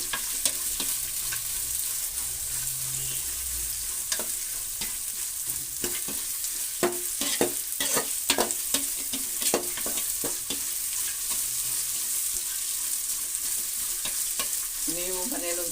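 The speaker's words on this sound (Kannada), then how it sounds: "ಹುರಿತಾ ಇದ್ದೀನಿ ನೋಡಿ." Okra (bhindi) frying and being stirred in a pan along with greens and onion, a steady sizzle broken by clusters of spoon scrapes and clinks against the pan, close up, with no talking.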